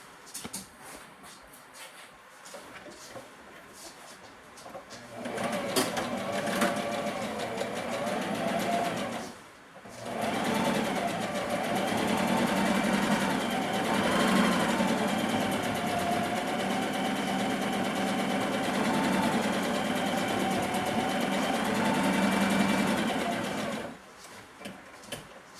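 A sewing machine stitches in the ditch on a bodice, running in a steady close whirr for several seconds, pausing briefly, then running again for a longer stretch before stopping; no voices.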